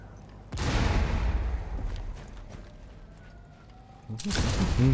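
Gunfire bursts in Rainbow Six Siege, with a loud volley near the start and another near the end. Quieter game ambience fills the gap between them.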